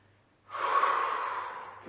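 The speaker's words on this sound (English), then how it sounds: "Breathing deeply." Deep breathing during a reformer Pilates class: after a quiet start, one long, close exhale rushes out steadily and slowly fades.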